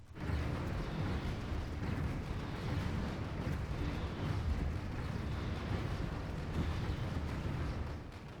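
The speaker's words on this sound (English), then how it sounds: "We are shooting lasers into his shields." Stellaris space battle: lasers hitting enemy shields, a dense, steady roar of weapon fire and impacts with a continuous rumbling wash, loud and unbroken for several seconds.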